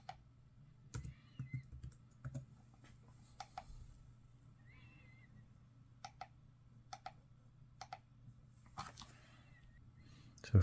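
Quiet, irregular key taps on an HP Stream 11 laptop keyboard as a password is typed, sparse clicks spread across the clip with short pauses between bursts over a low steady hum.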